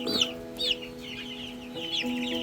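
Rhode Island Red chicken giving a few soft, close clucks and short chirpy calls, with steady low hum in the background.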